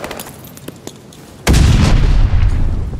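Video game combat during a hardpoint match: light, scattered shots give way to a sudden loud blast and then a dense, sustained rumble of gunfire and explosions.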